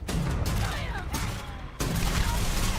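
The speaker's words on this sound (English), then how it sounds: "He's got that gun. It's the fucking grenade launcher." Grenade launcher fire in the video game Elite Dangerous: a loud, dense barrage of booming shots and blasts that overlap into a continuous rumble, with a sharp fresh burst near the end.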